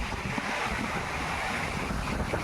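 A village river running high after heavy rain rushes in a steady, unbroken roar, with strong wind buffeting the microphone throughout.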